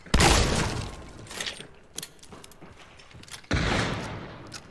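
A gunshot rings out in Hunt Showdown, a loud sharp crack at the start with a rolling tail, a few smaller knocks, then another heavy blast near the end; no talking.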